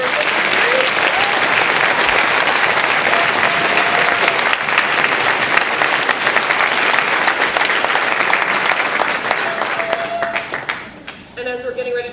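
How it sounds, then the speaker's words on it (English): Loud, dense applause fills the room at an elementary school moving-up ceremony, a sustained wash of clapping from a large audience that fades near the end as a voice begins speaking. "Let's give them one more round of applause for our"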